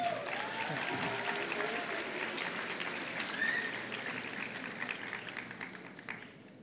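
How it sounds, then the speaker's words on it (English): Sustained audience applause at a secondary school graduation ceremony, a dense crowd clapping steadily for several seconds and slowly fading, with faint voices underneath. "Let's give a round of applause for them."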